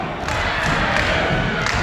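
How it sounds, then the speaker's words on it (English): A wrestling event crowd roars and cheers in a dense, steady wash of noise, loud and sustained with no clear individual voices. "So the crowd now deciding to get behind Rat Daddy."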